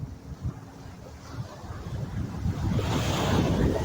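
Ocean waves wash onto a beach with wind buffeting the microphone, a rumbling surf that swells louder toward the end.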